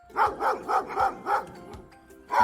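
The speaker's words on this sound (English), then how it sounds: "This is the sound of my dog." A dog barks five times in a steady rhythm, then pauses before one more bark; moderately close and fairly soft.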